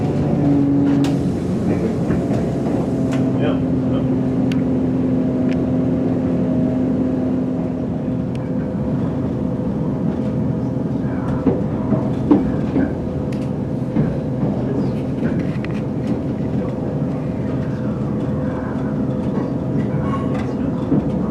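A TransPennine Express passenger train runs steadily, heard from inside as a continuous loud rumble and drone with faint rail clicks and a brief whine early on, no voices.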